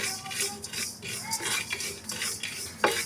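A spoon stirs masala spices as they dry-roast in a pan for amla pickle, with repeated scraping and clinking strokes in an uneven rhythm, close and fairly soft, with no talking.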